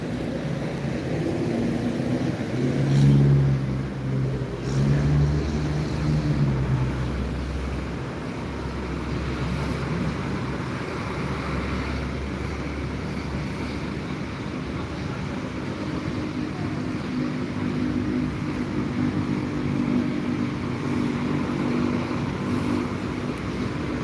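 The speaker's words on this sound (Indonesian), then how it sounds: "Sekarang yang banyak yang melintas di depan terminal cuma truk." Heavy trucks roll past the front of the Palembang bus terminal, a steady low rumble of engines and tyres with a louder truck swelling close by early on, then continuous mid-distance traffic drone.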